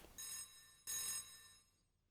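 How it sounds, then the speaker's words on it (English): A picture phone in a movie rings in two bright electronic bursts separated by a short gap, the second trailing off into quiet. "someone's calling on the picture phone"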